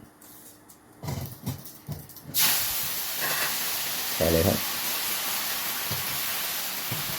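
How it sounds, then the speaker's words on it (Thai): Water spinach hits hot oil in a pan with a loud, steady sizzle that hisses on continuously, with someone speaking briefly just before and clattering utensils. "สีเอาผักบุ้งลงไปพัดครับ"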